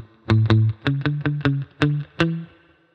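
A reggae lead guitar stuck line played with only downstrokes: about nine short, crisp muted picked notes in a choppy rhythm, each clipped quickly, close and alone.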